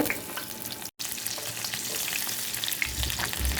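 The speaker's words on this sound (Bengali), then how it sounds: "এখন এটাকে আমি একদম পোড়া পোড়া করে ভাজবো।" Chopped garlic frying in hot oil in a frying pan, a steady close sizzle with occasional stirring scrapes, briefly cut to silence near the start before sputtering on.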